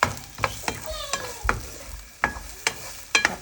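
Garlic and onion fried together with pork for an ampalaya dish, stirred in a pan: a spatula scrapes and knocks in a steady rhythm of about eight strokes over a soft sizzle, close and alone.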